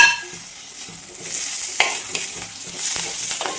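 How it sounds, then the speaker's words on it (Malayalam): Green chillies and curry leaves frying with onions for a pearl spot fish mappas make a loud, close, continuous sizzle, broken by spatula scrapes and knocks against the pan as they are stirred. "ഈ സമയം നമുക്കൊരു 6 പച്ചമുളകും കുറച്ച് കറിവേപ്പിലയും ചേർത്ത്"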